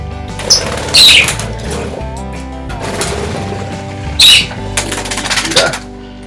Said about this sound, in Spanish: Ya está piando por primera vez.